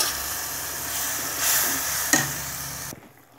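Tamarind water poured into hot oil in a fish curry pan: a loud bright sizzle and hiss that swells midway, with a sharp clatter near the end before it cuts to quiet.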